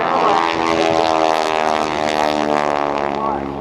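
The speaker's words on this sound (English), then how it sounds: "It is beautiful T-6, even if it does have Air Force markings on it." A T-6 propeller airplane flies past at the 2014 NAS Oceana Airshow, its loud, close engine droning steadily with a thick buzzing tone and no voices.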